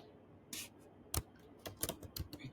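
Quiet, uneven bursts of keystrokes from a computer keyboard while code is typed, a handful of soft, close clicks in an irregular rhythm.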